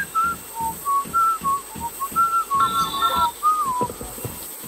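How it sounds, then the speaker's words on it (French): Someone whistles a wandering melody during an 8-versus-8 PvP match in the game War Z, with short rising and falling notes over a rhythm of soft thumps. "faut éviter le sifflement sur le terrain."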